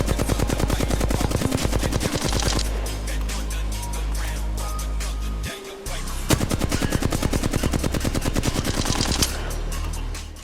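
Rapid automatic weapon fire in Apex Legends, loud and close, in long sustained bursts with a brief pause midway before firing resumes.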